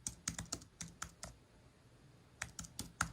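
Someone types a folder name on a computer keyboard, a quick run of crisp nearby key clicks, a short pause, then another brief burst of taps, with no voices.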